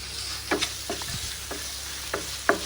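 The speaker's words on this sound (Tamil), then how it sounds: "சேர்த்து நல்லா வதக்கி விட்டுருவோம். வதக்கி விட்டுட்டு ப்ரான் எடுத்து போட்டுருவோம்." Prawns sautéing in a grandmother's homemade masala in a pan: a soft, continuous sizzle broken by several distinct spatula scrapes and stirring strokes at uneven intervals, close by, with no talking.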